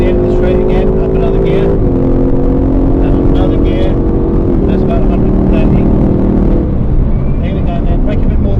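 Aston Martin Vantage engine at Silverstone circuit, a loud steady drone that steps through gear changes as it accelerates, with a voice talking over it throughout.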